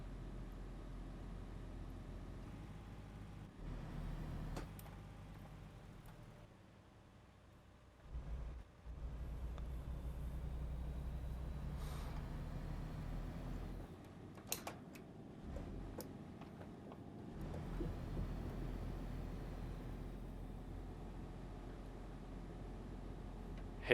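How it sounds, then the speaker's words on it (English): A heavy truck engine in American Truck Simulator holds a steady low rumble in sixth gear, quiet and muffled, with a few brief clicks and a short dip partway through. "Hate how quiet these new trucks are."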